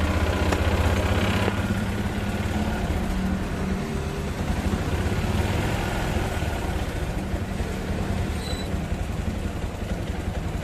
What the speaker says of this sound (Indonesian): Oke ya, ini motor hidup ya.